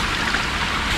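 A small waterfall in Tonogayato Garden in Kokubunji, Tokyo, gives a brief, close, continuous rush and trickle of falling water with no voices.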